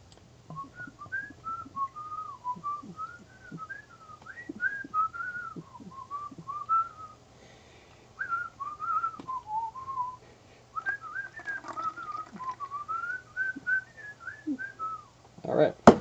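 A person whistles a lilting, wandering tune in short phrases with brief pauses, fairly close and clear over a quiet indoor background with light handling noises.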